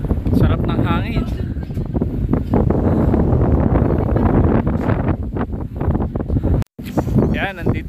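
Strong mountain wind buffets the microphone in a steady roar, with people talking underneath the gusts.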